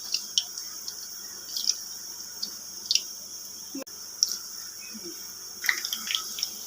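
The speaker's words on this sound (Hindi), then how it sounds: "ऑयल गर्म हो गया है, ये हम इसमें पकोड़े डालेंगे" Onion pakoras frying in hot oil in a kadhai, a steady faint sizzle with scattered small pops and crackles throughout, no voices.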